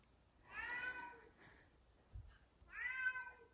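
A pet cat meows twice, soft and fairly distant, with a quiet pause between the two calls and no talking.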